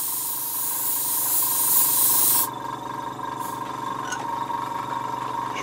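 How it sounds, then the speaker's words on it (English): Airbrushing black paint over a stencil on a model vehicle: a steady close hiss of spray for about two seconds that cuts off, leaving a quieter background hum with faint small clicks. "So I'll have some black in here this time, and just lightly airbrush"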